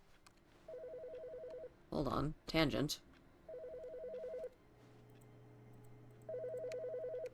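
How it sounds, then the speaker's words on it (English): Electronic telephone ringing in repeated bursts inside the office of The Stanley Parable, clear and fairly loud, with someone talking between the rings. "Phone's ringing."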